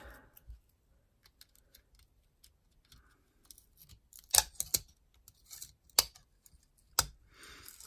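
A part is peeled back during the teardown of an HTC smartphone, producing sparse small clicks and a few sharp plastic snaps up close, separated by near silence.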